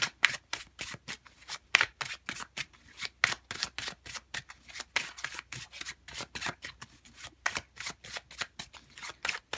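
Tarot cards being shuffled by hand, a long run of rapid crisp riffling bursts in steady rhythm, close and moderately loud, with no talking.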